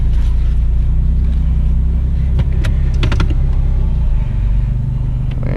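A 2004 Nissan Xterra is taken for a test drive after an inner and outer tie rod replacement, with a loud, constant low engine and road rumble inside the cabin and a few light clicks and rattles.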